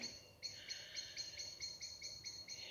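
Birdsong from trees at dusk: a clear, repeated high chirping call sounding about ten times in a steady rhythm, moderately distant over a quiet background.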